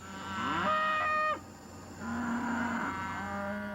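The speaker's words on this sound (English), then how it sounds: "On the night of April 30th, the cattle belonging to the Rose Allen family near Ponchatoula are restless." Restless cattle on a farm near Ponchatoula give two long, loud moos in succession, the first rising and cutting off abruptly, the second lower and drawn out over faint background noise.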